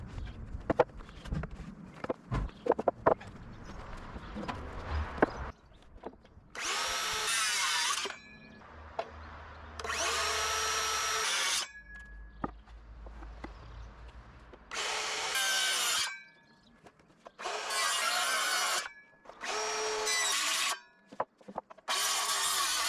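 A power saw cuts through wooden stair treads in several loud bursts of whining, buzzing blade noise, separated by quiet gaps with handling knocks, footsteps and clatter up close in a workshop.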